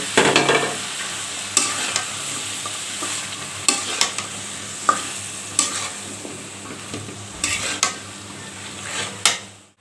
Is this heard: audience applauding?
no